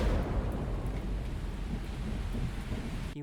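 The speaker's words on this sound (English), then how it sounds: "This house was struck by lightning." Thunder from a lightning strike on a house, picked up by a doorbell camera: a heavy, sustained low rumble that fills the whole stretch at fairly even loudness, with a hiss of rain on top and no voices.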